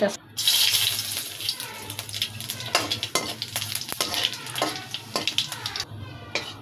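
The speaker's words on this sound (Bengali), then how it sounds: "দেখো জিরাটা আমি কীভাবে ভাজবে নিছি" Cumin seeds frying in hot oil for tempering, with a close, crackling sizzle and bursts of spattering that come and go as they are stirred.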